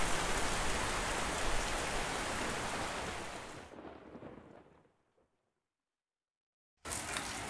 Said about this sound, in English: You want to get out of the rain?